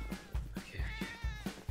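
Cat meowing in GTA 5 roleplay, a string of close, distinct meows and caterwauling cries in quick repetition over a low rhythmic thump, with no talk.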